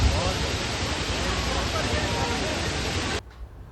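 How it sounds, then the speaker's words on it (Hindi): Loud, constant rush of falling water roaring nearby, a dense broadband wash that cuts off abruptly near the end, leaving faint background sound. "ये कितना अच्छा सा झरना है, ऊपर से पानी आ रहा है, क्या आवाज़ आ रही है इसकी"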